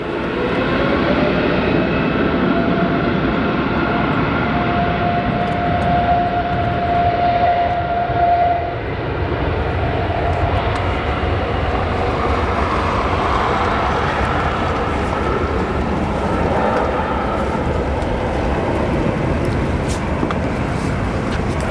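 A GEnx jet engine rated at 88,000 pounds of thrust spools up at O'Hare International Airport, a loud, broad, steady roar that holds throughout with a brief tonal whine partway through.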